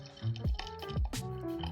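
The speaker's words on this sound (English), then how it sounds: "Add in some water." Hot water pours into a cup of powdered English-style milk tea, giving rising gurgles and splashy drips in a short, close burst.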